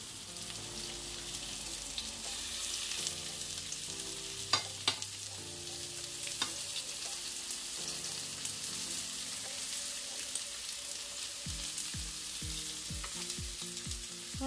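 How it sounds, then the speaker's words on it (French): Spiced chicken skewers sizzle steadily in a frying pan, a continuous close hiss of hot fat with occasional pops and a few light utensil knocks and clicks, no talking. "je vais poser mes brochettes directement dans ma poêle"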